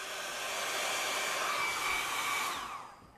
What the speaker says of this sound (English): But I find a heat gun is, or a blow dryer is the best way to go.